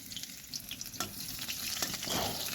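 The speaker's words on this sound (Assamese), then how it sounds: "ইয়াত কড়াই বখাইখিনি তেল দিলোঁ। তেল নাইকিয়া হৈ গ'লে হ'ব দিয়ক। তেল দিলোঁ, পিঁয়াজ দিলোঁ।" Onion sizzles and crackles in hot oil in a wok, a steady close frying hiss with occasional stirring scrapes, no voices.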